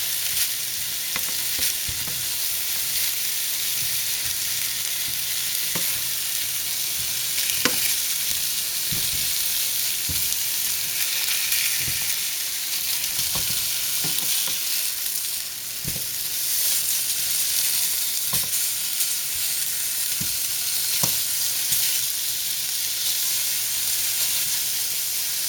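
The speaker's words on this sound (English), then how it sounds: "make sure that we turn the sausages once in a while so that way they don't burn on one side" Sausages fry in a pan with a steady, dense sizzle and hiss throughout, broken by occasional soft clicks and scrapes as a spatula turns them, close and continuous.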